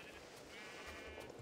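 A sheep bleating in the video game Minecraft, one drawn-out wavering bleat heard clearly and close, alone with no talk over it.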